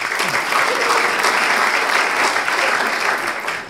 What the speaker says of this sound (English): please don't applaud.